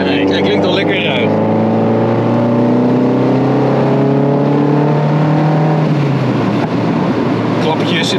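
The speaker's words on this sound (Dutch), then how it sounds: "Klappetjes in de uitlaat." A tuned Mazda MX-5 NC with a BBR GTI 225 conversion idles roughly through its exhaust: a loud, close, rumbling drone that falls away partway through, followed by a few sharp crackles and pops near the end.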